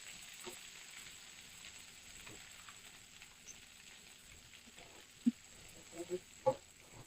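Paste frying in oil in a pan, a faint, soft continuous sizzle with low crackle, broken near the end by a few louder clanks and scrapes close by.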